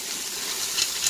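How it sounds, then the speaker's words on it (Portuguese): Water pours into a pressure cooker pot for feijoada, a steady, close, hissing rush that fills the whole short moment with no talking. "Aqui você vai agora colocar a água"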